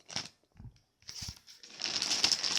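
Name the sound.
unwrapping an Okaïdi clothing parcel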